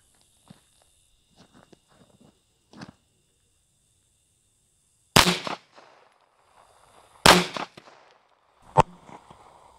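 .22 rimfire rifle fired outdoors, comparing 22lr and 22 mag rounds: three sharp, loud cracks spaced a couple of seconds apart, preceded by faint clicks and handling noises.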